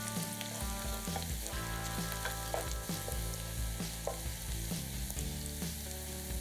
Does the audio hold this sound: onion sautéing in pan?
yes